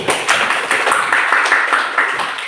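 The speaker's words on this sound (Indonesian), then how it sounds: "tepuk tangan dulu" A fifth-grade class claps together in an Indonesian classroom: a brisk, close burst of many hands patting in quick, even rhythm that holds for a couple of seconds.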